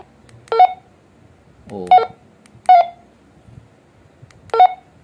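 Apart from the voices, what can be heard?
Baofeng UV-13 Pro radio beeps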